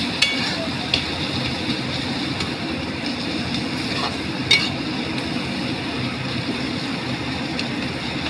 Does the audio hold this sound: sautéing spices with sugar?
yes